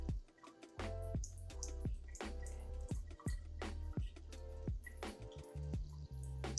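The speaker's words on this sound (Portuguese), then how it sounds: "Aí a gente vai abrir a torneira para ela pingar água, bem assim, só para um fiozinho de água passar." Water dripping from a tap opened just enough for a thin trickle, a series of close, irregular plinks and splats repeating steadily with a wet, liquid texture and no talking.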